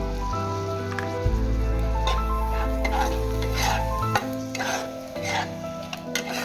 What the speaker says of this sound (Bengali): কিছুক্ষণের জন্য নাড়াচাড়া দিয়ে ভেজে নেব।